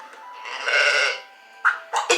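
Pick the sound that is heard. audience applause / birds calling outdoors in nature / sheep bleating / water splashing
sheep bleating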